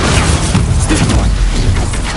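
The Stupefy stunning spell is cast in the Hogwarts Legacy video game: a loud, dense magical blast with crashing, booming impact that fills the whole brief moment, with no talk over it.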